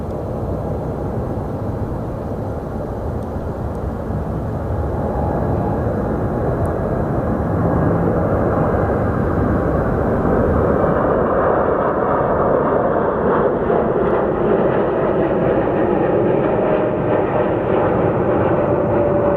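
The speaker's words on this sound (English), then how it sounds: "787 is taking off." A Boeing 787 airliner takes off at Sky Harbor Airport, a loud, sustained jet-engine roar heard from a distance that swells and rumbles steadily for about twenty seconds with no talking.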